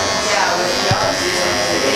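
An electric trimmer buzzes through a big, burly beard at a barbershop, a close, steady hum with slight shifts in pitch as it cuts, while people talk over it.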